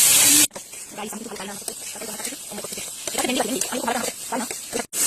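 Chili and onion sizzling in hot frying oil for an okra fry, a steady crackling hiss running loud and close throughout, with a voice speaking over it.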